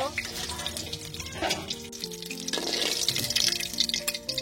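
Oil sizzles and crackles as eggs fry in a pan with scraping stirs, growing louder and busier toward the end.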